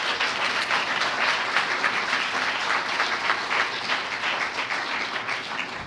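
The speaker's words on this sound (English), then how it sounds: "Let's give all of these entrepreneurs a round of applause." An audience at a business challenge event gives sustained applause for a group of entrepreneurs, a dense, even wash of many hands clapping with no pauses.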